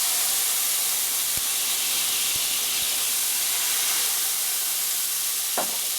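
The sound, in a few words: cognac added to a hot pan for steak au poivre sauce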